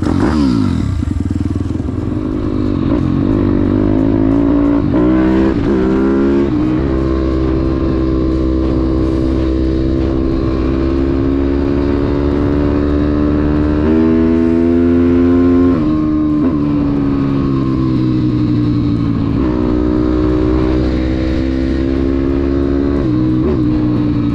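A Daytona 212 cc engine idling rich, then revving up and down in a loud, steady drone with rising and falling pitch sweeps, running close by throughout.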